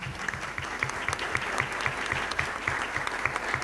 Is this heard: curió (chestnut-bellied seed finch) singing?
no